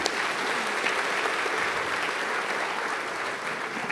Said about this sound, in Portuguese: Vamos aplaudir o Senhor pela vida da Suzana.